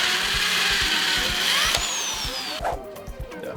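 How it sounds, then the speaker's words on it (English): Power drill boring holes in wood pieces, a loud whining motor with rising pitch under load and rhythmic low thumps, ending in a clatter as the bit breaks through, close up. "we're going to drill 2 holes in each of these, just large enough for a screw to fit through"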